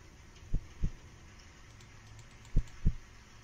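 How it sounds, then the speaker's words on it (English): A heartbeat in the horror video game One Late Night: two pairs of soft, low, thumping lub-dub beats with a pause between the pairs, faint over a quiet hum. "Why does my heart beat like that?"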